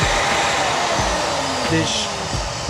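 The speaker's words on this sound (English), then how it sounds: "the shop vacuum goes off as well, so you don't end up having a mess" Shop vacuum, wired to switch on with a woodworking power tool, runs at a steady loud whine that fills the clip, with a few brief thumps and a short tonal blip partway through.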